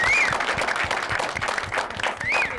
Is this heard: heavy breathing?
no